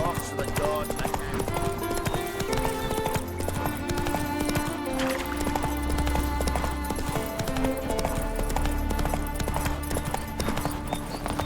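Horse hooves clip-clop steadily in The Witcher 3 while a character talks over the ride, with background music playing beneath the even hoofbeat rhythm.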